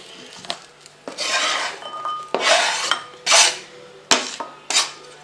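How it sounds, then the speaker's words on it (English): A knife chops and dices an onion on a cutting board, with about six sharp, separate knocks spaced irregularly over a few seconds. The knocks are close and moderately loud, with quiet gaps between them and no talking. "and chop it so I get my dices"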